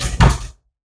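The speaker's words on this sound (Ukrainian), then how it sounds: "в нас дверцятка закривається за допомогою магнітних очинювачів" A shower cabin door, Veronis BN-10-90, swings shut and catches on its magnetic closers, giving one brief close dull thud, nothing else around it.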